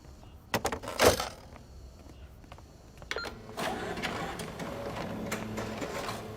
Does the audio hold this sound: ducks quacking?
no